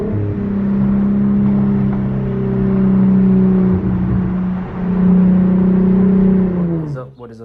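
Infiniti Q50 with an ISR Performance single exit exhaust, heard from inside the car: a steady, droning engine hum that rises and falls with throttle and fades out at the end.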